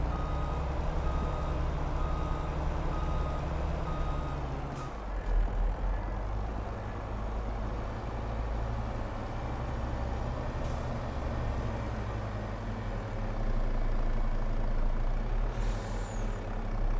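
A truck in a farming video game set on a British map reverses with steady, loud reversing beeps over a rumbling diesel engine, punctuated by sharp hisses of air brakes at intervals, with no talking.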